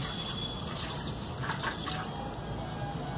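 Water from a jug pours steadily into the petrol tank of an Apache 160 RTR motorcycle, a close, continuous gurgling fill with faint trickles and no talking.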